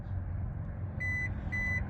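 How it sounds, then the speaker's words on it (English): A Kia Niro EV power liftgate sounds two short electronic beeps in quick succession while saving its height, over a steady low engine-like hum. "press and hold it until it beeps"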